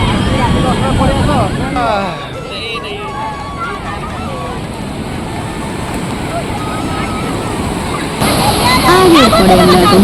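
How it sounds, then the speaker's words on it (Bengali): Strong sea waves at Puri beach slosh and splash continuously beneath loud nearby talk and a crowd babble, with the surf rising again at the end. "এত জোরে জোরে যে ঢেউগুলো আসছে"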